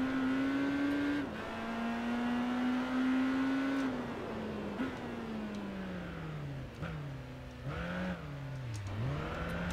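A Honda motorcycle races in the Tourist Trophy video game, its engine a steady, close whine whose pitch climbs and drops with gear shifts and throttle changes, alone without talk.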